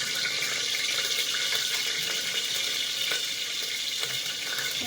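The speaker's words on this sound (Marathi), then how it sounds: "तेल गरम झाल्यानंतर त्याच्यामध्ये आपल्याला टाकायचं आहे तेजपत्ता आणि दालचिनी." Bay leaf and cinnamon frying in hot oil, a steady bright sizzle that holds evenly throughout, close and unbroken with no talking.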